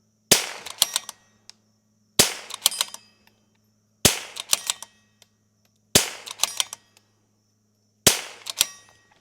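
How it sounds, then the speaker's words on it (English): Rim-X rifle firing five rounds in steady succession, each a sharp loud crack with a brief metallic ring and echo trailing off before the next, evenly spaced and with no talking. "What I'll do is I'll shoot 5 off the top."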